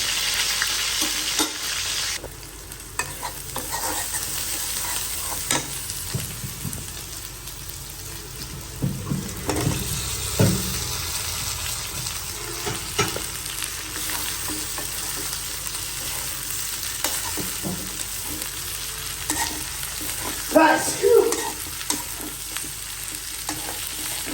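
Spiced meat frying in a pan, a steady close sizzle with scraping stirs and occasional clatter running throughout, no talk.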